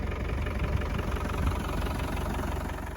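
A 1990 Land Rover Defender 110 with the 200tdi diesel engine idles steadily, a close, even low clatter with a rapid knocking pulse running the whole time and no voices.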